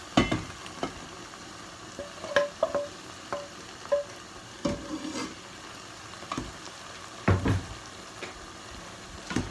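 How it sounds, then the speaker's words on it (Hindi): Chironji seeds roast in a pan over low heat, a soft continuous sizzle punctuated by irregular scraping stirs and light clinks of a spoon against the pan. "5 मिनट के लिए भूनूंगी इसे हल्की आंच पे।"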